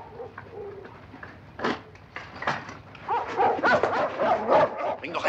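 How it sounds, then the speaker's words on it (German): A dog barks in a 1957 film set in Paris, first in a few separate loud yaps and then in a rapid, excited run of barks. Pigeon-like cooing and some voices are mixed in. "Bring doch einer den verdammten Hund zum Schweigen!"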